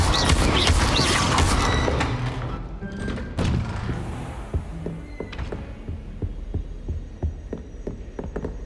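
A fire spell cast in the Hogwarts Legacy video game, with a loud roaring whoosh of flame that fades into a low rumble, followed by scattered crackles and soft thuds.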